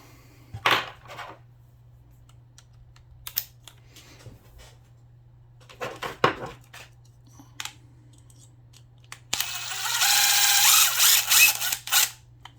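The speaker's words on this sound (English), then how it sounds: "we're going to use our drill" A few brief clicks and handling noises, then a power drill whirs loudly for a couple of seconds over a faint low hum, used to modify a Nerf Hyper Rush 40 blaster.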